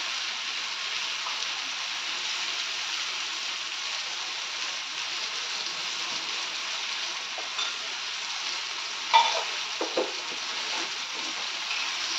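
Continuous bright sizzle of ginger-garlic paste frying in hot oil on a tawa, with a few soft scrapes and taps of stirring near the end; no talking.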